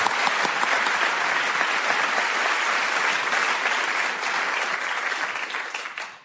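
A studio audience at a comedy panel show breaks into dense, sustained applause that runs steady for several seconds before tapering off.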